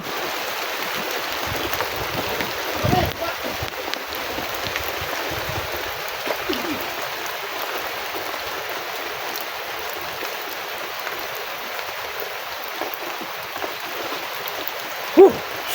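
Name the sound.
heavy rain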